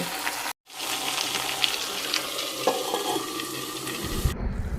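Taro pieces frying in a pan over a high flame, a steady bright sizzle with scraping stir strokes throughout, a brief drop-out near the start and a lower rumble toward the end.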